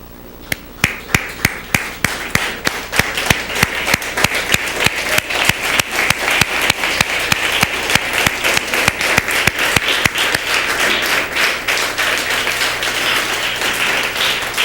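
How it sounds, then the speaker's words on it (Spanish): A congregation standing at a church service claps in unison, sharp rhythmic beats starting sparse and quickly settling into a steady fast pulse that merges into dense, continuous applause with music underneath. "Póngase de pie y dele un fuerte aplauso al Señor."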